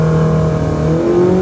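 A car launches with its engine held at high revs, a loud, close, continuous roar whose pitch climbs steadily, with no voices.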